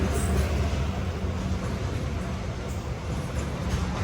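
A long, empty train rolls past with a steady low rumble and broadband noise that hold at an even level throughout, with no voices over it.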